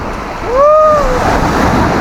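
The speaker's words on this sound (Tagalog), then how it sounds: "Ang lakas pa naman ng alon." Loud rushing surf of strong ocean waves at a beach resort, a steady broadband wash with a brief rising-falling whistle or call cutting across it.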